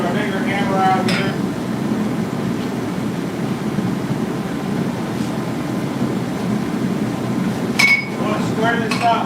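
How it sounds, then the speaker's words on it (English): A larger hammer strikes a steel spoon being forged, giving a few sharp metallic clinks near the start and a short cluster near the end over steady low shop rumble. "Put our bigger hammer out here"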